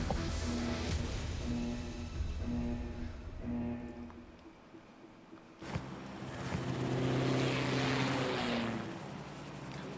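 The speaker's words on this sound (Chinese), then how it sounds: "飞机很快就要起飞了" An aircraft in a video game readies for takeoff, its droning propeller engine humming steadily at mid volume, dipping briefly and then swelling louder in a rising whir.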